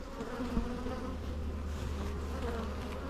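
Carniolan honeybees buzz at an open hive during the rapeseed flow, a steady, close, full swarm drone with no one speaking.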